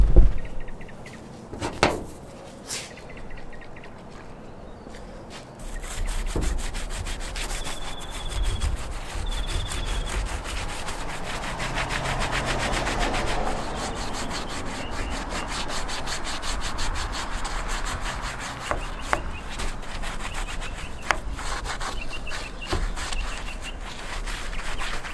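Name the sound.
scrubbing a dirty old steering wheel after rust dissolver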